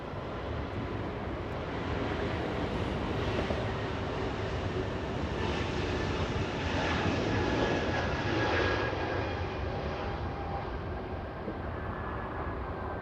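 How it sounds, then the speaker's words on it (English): A Delta Airbus A220 departs Los Angeles International Airport bound for Houston, its jet engines a broad, steady roar that swells slightly midway and holds, heard from a distance with no talk over it. "Delta 773 flying to Houston, Texas, a little A220."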